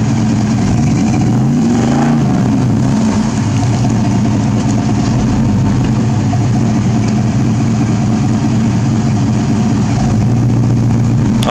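A Chevrolet S10 pickup stuck in mud roars under steady heavy throttle, its engine loud and close with a sustained low drone and a brief pitch sweep early on.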